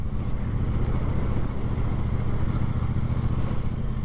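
Triumph Bobber motorcycle riding through the Peak District, a steady low engine drone with continuous rumble and wind throughout, no voices.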